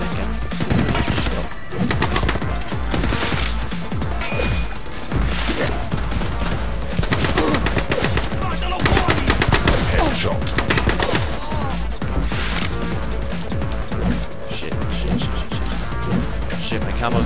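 Dense, continuous bursts of gunfire and crashing explosions from the video game The Club fill a loud, busy game soundscape with no pauses.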